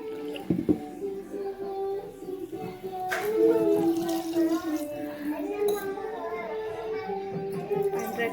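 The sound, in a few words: water being poured into rice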